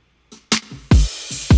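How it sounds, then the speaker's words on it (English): A short electronic drum beat loop combines booming kick hits, a sharp snare, cymbal wash and hi-hat ticks, punchy and loud, with several hits in quick rhythmic succession. "So now when you put it all together, this is my drum beat."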